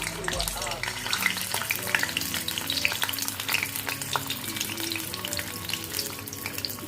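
Eggs fry in hot oil in a wok for a soybean and egg dish, with a loud, steady sizzle and crackle up close and some stirring sounds.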